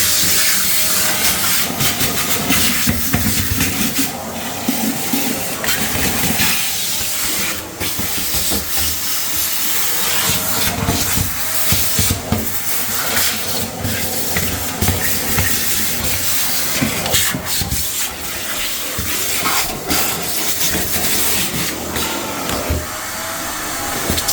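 Loud, continuous hissing roar of a vacuum cleaner running close by, with shifting whooshes and bumps as it moves, no voices.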